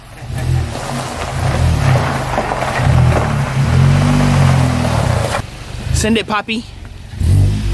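A VW MK7.5 GTI with a cut-down AWE exhaust revs loudly and close, with a deep throaty rumble that swells and drops in bursts, while people talk and shout over it.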